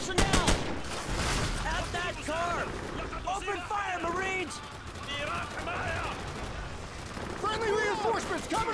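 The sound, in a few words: gunfire in video game Call of Duty 4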